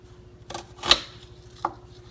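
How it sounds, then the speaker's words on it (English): A knife cuts through an onion on a cutting board while making beef stew: three separate, quiet chopping strokes spaced irregularly over a soft background, with no talking. "every time I cut an onion"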